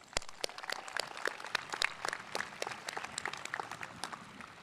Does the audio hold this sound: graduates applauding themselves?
yes